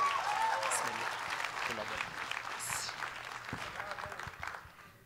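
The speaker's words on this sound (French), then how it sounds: "Bonne main d'applaudissement." A gala audience gives a singer warm applause, a steady crowd clapping that fades gradually, with a brief spoken thanks near the start.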